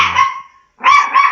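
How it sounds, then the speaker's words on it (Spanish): A small dog barks twice, loud and close, with a short pause between the sharp yips and no talk over them. "cuídeme ese perrito ladrador"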